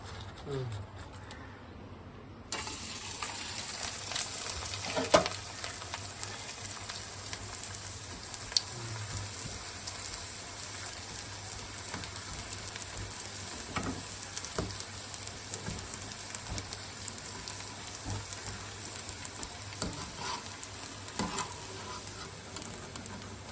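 Rice flake (atukula) crisps fry in hot oil, giving a loud, steady sizzle that swells after a brief quieter start and holds throughout, with a voice speaking faintly underneath.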